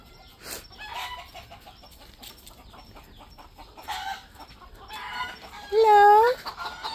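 Chickens cluck softly at their roost, scattered low clucks and brief calls building to a louder drawn-out squawk near the end, with a person's quiet voice faintly in the background.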